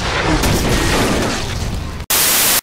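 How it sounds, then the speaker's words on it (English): Loud booming blast of a cannon firing as a sound effect, a dense explosive burst that rumbles for about two seconds, cuts off briefly, then hits again with another heavy blast. "Bitches love cannons."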